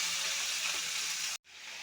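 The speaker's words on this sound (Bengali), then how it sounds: "সবজিগুলো দিয়ে দিলাম।" Vegetables sizzling in hot oil with black cumin, a steady loud hiss that cuts out briefly near the end and then resumes.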